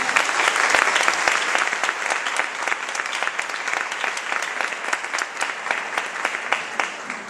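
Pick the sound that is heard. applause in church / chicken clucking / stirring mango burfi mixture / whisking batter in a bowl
applause in church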